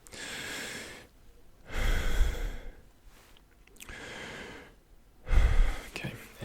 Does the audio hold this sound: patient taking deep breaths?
yes